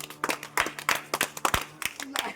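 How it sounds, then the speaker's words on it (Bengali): Children clap their hands at a small prize-giving game, a quick run of uneven, close claps at a lively pace over about two seconds, mixed with some faint voices. "সবাই হাততালি দাও।"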